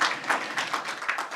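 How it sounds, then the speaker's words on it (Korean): An audience at a Korean forum on population decline and multicultural families gives a brief burst of applause for a panel guest, quick overlapping claps at moderate distance. "우리 큰 박수 부탁드리겠습니다."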